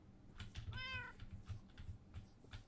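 A Minecraft kitten gives one clear, rising-falling meow near the middle, close and distinct over a low, steady game background.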